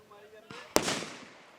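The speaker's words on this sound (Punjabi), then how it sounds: "ਆ ਤੁਸੀਂ ਧਮਾਕੇ ਦੀਆਂ ਆਵਾਜ਼ਾਂ ਸੁਣ ਰਹੇ ਹੋ" Tear gas shells bursting during a police action, one sharp loud bang followed by a decaying rumble, with a softer thud just before it and people talking in the background.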